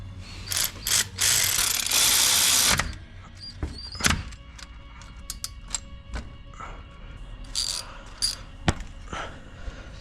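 A ratchet tightens a brake bolt on a 10th-generation Honda Civic during a front brake pad and rotor job, with bursts of rapid clicking pawl sounds and sharp metallic knocks, close and clear.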